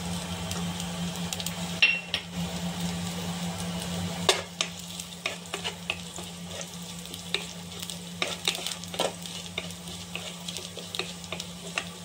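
Almonds frying in a pan for sheer kurma, a steady sizzle beneath intermittent scraping stirs and small clicks, close and moderate in level, with no voices.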